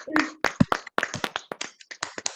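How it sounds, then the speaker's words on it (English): Scattered clapping from a few participants joining an online orientation session over separate microphones, a short burst of uneven, sharp claps and taps heard close and slightly clipped. "please give her a round of applause"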